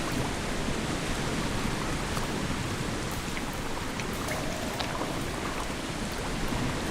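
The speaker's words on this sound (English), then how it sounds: "This is the waterfall." An indoor waterfall in a house basement in a video game gives off a steady, loud rush of falling water. The broadband hiss holds evenly, with no pauses and no voices.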